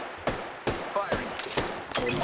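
Video game gunfire ringing out as a run of sharp, separate shots at uneven intervals, loud and close, with a few quicker bursts near the end.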